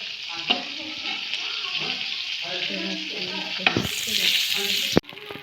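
Fresh fish frying in a pan, a loud close sizzle and crackle running throughout, with a sharp burst of spitting oil near the end before it cuts off abruptly; no voices can be made out.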